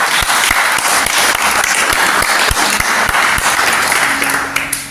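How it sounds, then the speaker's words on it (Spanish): A church congregation applauds loudly and continuously, with dense, steady clapping that fades slightly at the very end. "Le puedes dar un aplauso al Señor por eso."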